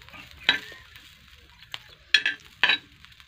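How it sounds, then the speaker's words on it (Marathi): Chilies, peanuts, garlic and a little oil roasting in a pan for thecha: a low sizzle with three or four sharp stirring scrapes and clatters spaced unevenly, close and fairly quiet, no voices. "आता आपल्या ह्या मिरच्या भाजत आल्या त्या."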